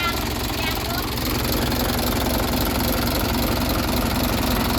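An engine with a stuck throttle runs steadily at a constant, rough, knocking pitch, close and loud throughout the short stretch, with no rise or fall in speed.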